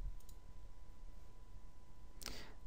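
A single computer mouse click while navigating Outlook Express menus, sharp and close against a quiet hum, with a fainter click near the start.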